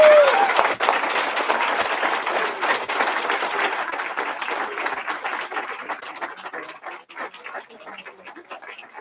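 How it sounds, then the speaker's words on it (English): Dense, loud applause from the audience at a graduation ceremony fills the opening, then gradually thins and tapers off over several seconds. "Can we give him another gigantic round of applause?"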